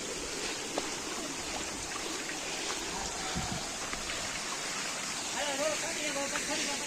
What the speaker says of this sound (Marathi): जास्त पाऊस असला पूर्ण हे पायऱ्यावर पाणी येतं